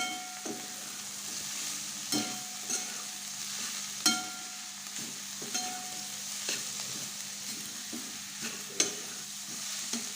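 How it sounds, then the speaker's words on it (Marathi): Pathra, a wild monsoon leafy vegetable, is stirred into sautéed onion in a pan. A steady low sizzle runs under regular scraping strokes of the spoon, with no voices. "आपला कांदा परतला आहे आपण त्याच्यामध्ये भाजी टाकणार आहोत आणि भाजी चांगली हलवून"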